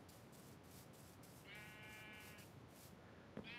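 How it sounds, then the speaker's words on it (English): A single sheep bleat from a Minecraft sheep farm, one wavering synthetic bleat of about a second over faint steady game ambience, followed by a small click. "So we have a sheep farm."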